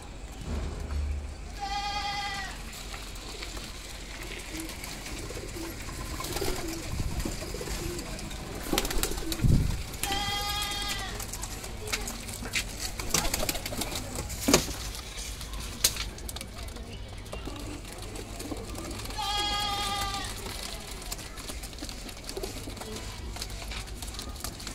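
Red-eyed Jeera pigeons give three clear cooing calls spaced roughly eight seconds apart, each a short rolling burst, over background rustling and handling noise while someone talks.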